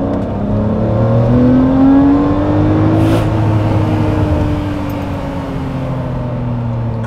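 A Lamborghini V12 engine, linked to the 350GT, Murcielago and Bizzarrini V12, revs up steadily and loudly, its pitch rising and holding under a constant heavy drone, with no voices.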